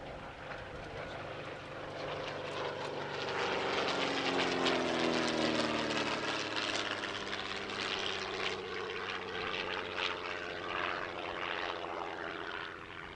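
A vintage aeroplane fitted with a 205 hp Gipsy Queen engine drones past at an airshow, its propeller engine swelling steadily louder then easing off, a continuous near hum alone.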